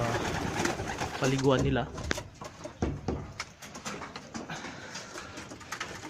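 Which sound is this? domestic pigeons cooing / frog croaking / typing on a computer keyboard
domestic pigeons cooing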